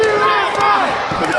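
A wrestling arena crowd roars and shouts in a dense, sustained wall of noise, loud and close throughout the short burst.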